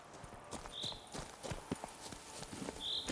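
Geralt's horse Roach from The Witcher 3 trots with steady clip-clop hoofbeats at moderate distance, a light rhythmic pattern over quiet game ambience, with two brief high tonal chimes.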